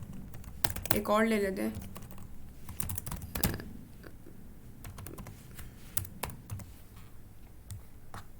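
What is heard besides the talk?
typing on a computer keyboard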